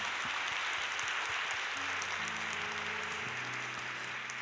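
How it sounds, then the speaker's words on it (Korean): A church congregation applauds in a dense, steady roar of clapping that continues throughout, while a sustained organ or keyboard chord rises underneath. "우리 하나님께 감사와 영광의 박수 올려드렸으면 좋겠습니다."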